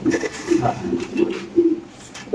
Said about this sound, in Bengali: শৌকিং মাদি কবুতর